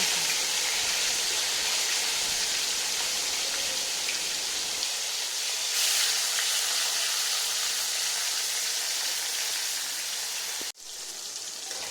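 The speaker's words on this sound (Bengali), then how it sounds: "তার মধ্যে মাছগুলো একটা একটা করে ছেড়ে দেবো আর লাল করে ভেজে" Rohu fish pieces frying in very hot oil in a kadai, a steady dense sizzle and crackle close by, continuous throughout and briefly cut off near the end before resuming.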